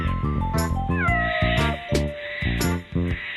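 A cat meows repeatedly at close range, a quick series of clear, insistent calls with no voices around them.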